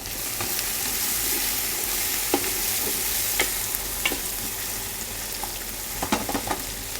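Two onions fry and brown in a pan for a murgh pilau, a steady close sizzle with occasional sharp pops and spatters from stirring, no talk over it.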